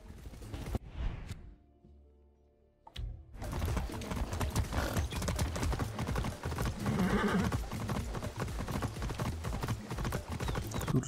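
Horse hooves galloping in the Far Cry 6 video game, an early brief neigh, then a short pause, then a fast, steady clip-clop that runs loud and continuous to the end.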